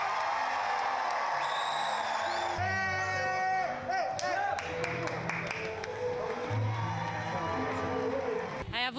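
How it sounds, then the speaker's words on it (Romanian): Extended applause and cheering from a concert audience in Pitești, a dense crowd roar with whoops and clapping, joined midway by a burst of stage music and tones. "minute întregi de aplauze"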